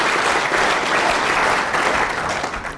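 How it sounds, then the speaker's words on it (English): A snooker crowd at the Crucible during a 2007 World Championship quarter-final applauds a pot with a short, dense burst of clapping that is close and loud, then starts to thin out toward the end. "Always clap when the player pots the ball that takes him into a safe position."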